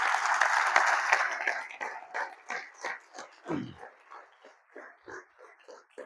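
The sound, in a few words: audience applause at training session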